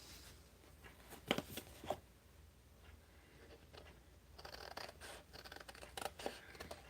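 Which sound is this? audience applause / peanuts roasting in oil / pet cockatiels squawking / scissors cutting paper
scissors cutting paper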